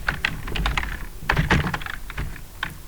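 Quick clusters of clicking keystrokes on a computer keyboard, typed in uneven bursts with short pauses, close and clear with no talking.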